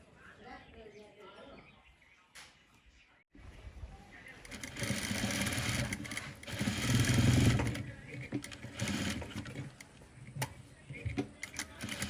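A sewing machine stitches a folded seam on a birthday gown, its whirring run rising from about four seconds and swelling loudest near the middle, with a quieter, patchy opening.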